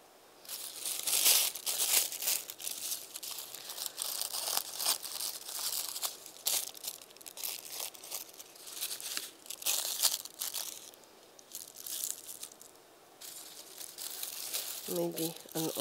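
Tissue paper crinkles and rustles in bursts at close range while a Guatemalan kite is being made, with a person talking quietly through it.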